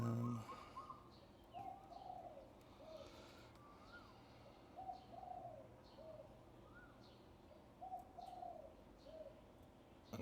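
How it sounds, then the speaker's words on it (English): A nesting pigeon or dove coos repeatedly in the background of an outdoor setting, soft rhythmic calls returning every second or two over a faint steady hiss. "We've got that bird again in the background."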